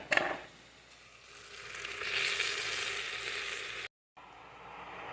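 Steady sizzling of chicken frying in a pot, with a brief louder burst at the start and a short silent gap near the end.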